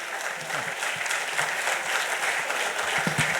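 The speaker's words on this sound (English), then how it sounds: "Can we have a thunderous applause," Broad, steady applause from a convention audience at a book launch during an accountants' convention, filling the whole stretch with dense crowd clapping and faint murmurs underneath.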